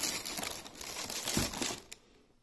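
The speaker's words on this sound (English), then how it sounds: "okay, so I've gotten the box and the packaging out of the way" Box and packaging of a Unicomp Ultra Classic keyboard being unpacked, quiet crinkling and rustling of cardboard and wrapping with a brief thump, fading out at the end.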